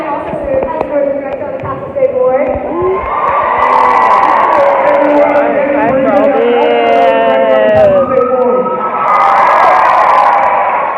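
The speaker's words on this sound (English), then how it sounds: "And they're screaming." A group of children on a school field trip shout and scream together in a steady, loud, crowded din, with voices talking and cheering throughout.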